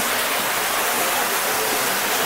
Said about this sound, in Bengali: এখানে একটা ঝর্ণাটা দেখুন